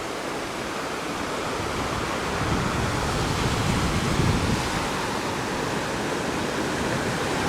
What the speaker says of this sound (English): There is not a dam, so this looks like a natural